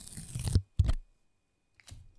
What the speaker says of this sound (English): I always love the sticker peel sound.